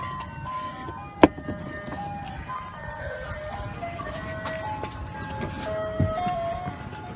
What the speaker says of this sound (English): There goes my ice cream truck on the street